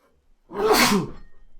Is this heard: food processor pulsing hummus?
no